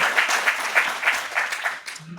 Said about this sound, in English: So, applause.